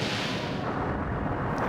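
Torpedo and sub-cannon fire from an airship battle in Skies of Arcadia Legends, a dense booming barrage of blasts that stays loud and steady throughout the short burst.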